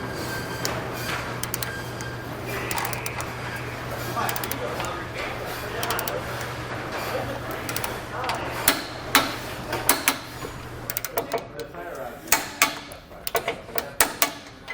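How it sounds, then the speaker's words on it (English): Torque wrench tightening the fasteners on a CURT front mount trailer hitch receiver fitted to a 2014 Ford F-250, with someone talking at first, then sharp metallic clicks and knocks arriving in irregular bursts toward the end. "we'll take our torque wrench here, we'll torque down all of our fasteners to the specifications"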